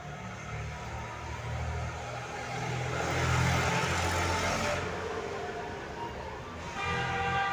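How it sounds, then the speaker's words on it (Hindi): Vehicles pass nearby, making a steady, loud traffic rumble that swells in the middle and eases off. No one speaks over it. "यहाँ पे ना गाड़ी की आवाज़ बहुत ज़्यादा आ रही है"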